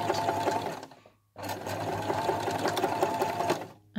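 A sewing machine stitches through quilted fabric for a scissor case, its steady rapid whirring running close and loud in two bursts separated by a brief pause, with a few faint clicks at the end.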